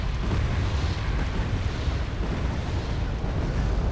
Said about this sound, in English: my artillery is firing on all of these